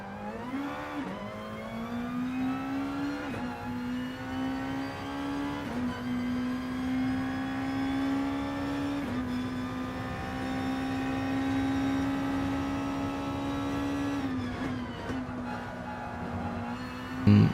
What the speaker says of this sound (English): The car that I'm driving today is the Nissan GTR Group 2 car in Gran Turismo Sport.